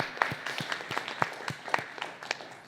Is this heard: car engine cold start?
no